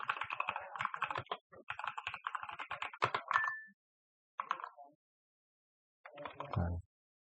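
Keys clatter on a computer keyboard in quick, uneven bursts of taps, close and crisp, broken by short pauses and ending in a last flurry of keystrokes.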